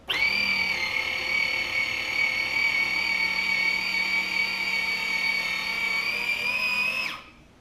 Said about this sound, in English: We have a grinding cone here, and we're going to see if we can grind some of this down a little bit.